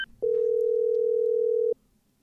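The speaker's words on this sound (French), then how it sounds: "ça sonne occupé" A single steady electronic telephone tone holds for about a second and a half, clean and loud over faint room noise, with no talking.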